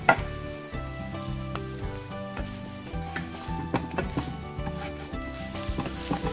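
Buttered crab and egg for a Korean-style tamago donburi sizzle in a frying pan with the heat turned off, a steady soft crackle under faint clinks and a low background hum.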